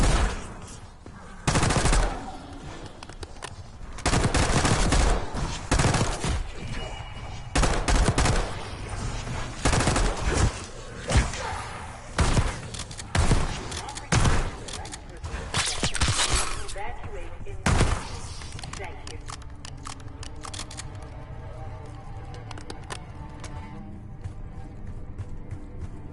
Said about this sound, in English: Gunfire? Yeah, sounds like it's coming from one of the floors.